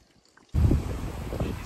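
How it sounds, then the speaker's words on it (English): Strong wind at a forest truck campsite during heavy rain and high winds: a near-silent moment gives way to an abrupt, loud, roaring rush of wind buffeting the microphone that holds steady to the end. "It's getting windy out here."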